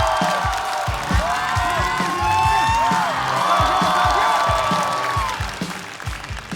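A studio audience at a stand-up comedy show applauds and cheers to welcome a comedian to the stage, dense loud clapping with scattered whoops running steadily for several seconds before easing slightly.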